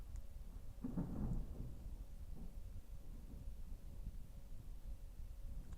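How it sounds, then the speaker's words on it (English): Thunder rumbles low and steady through a storm for the whole stretch, swelling into a deeper roll near the start before settling into a continuous distant grumble with rain-like hiss; no one speaks. "I can hear the thunder."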